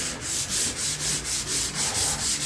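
Rhythmic rubbing strokes of sanding on a 1981 Oldsmobile G-body panel, a steady back-and-forth hiss repeating about twice per second, close and continuous.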